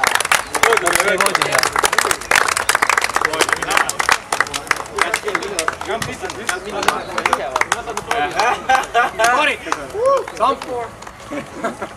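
A crowd claps for a kart racer at a karting event, a brisk run of many hands from near and far lasting several seconds, with voices chattering underneath.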